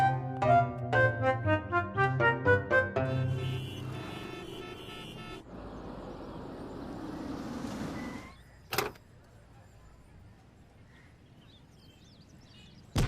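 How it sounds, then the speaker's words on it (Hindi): A car starts up with a few honks and chimes, then its engine runs and revs steadily before settling into a quiet idle, with a sharp click near the end. "गाड़ी निकाली जल्दी"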